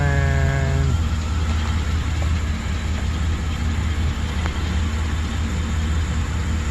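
A 2008 Chevrolet Express van engine with a misfire idles steadily with a low, uneven rumble, continuous and fairly loud throughout, after a brief tonal hum at the start.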